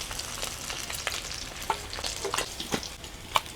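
Pieces of katla fish fry in hot oil, giving a steady close-up sizzle with scattered pops and crackles.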